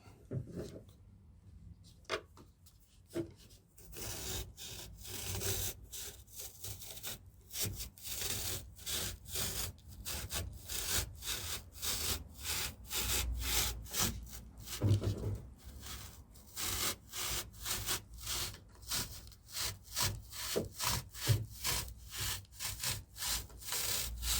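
Excess expanded foam on a rowing eight is sawn off in steady back-and-forth strokes, a rapid rasping rhythm that runs almost continuously after a brief pause near the start, close and fairly quiet.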